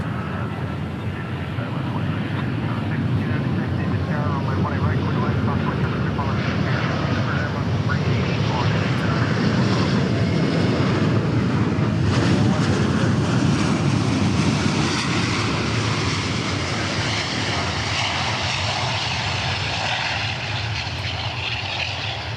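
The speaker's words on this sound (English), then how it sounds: "That's what you call a textbook A380 landing." Airbus A380 landing at DFW Airport, a loud sustained roar of jet engines that swells and holds for over twenty seconds, with broad rushing noise and no break.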